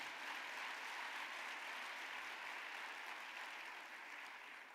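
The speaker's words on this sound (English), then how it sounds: "Ladies and gentlemen, give them a big round of applause." Steady audience applause fills an awards gala honoring African Americans, a dense, even wash of clapping from a large crowd that holds at a constant level for several seconds before easing slightly.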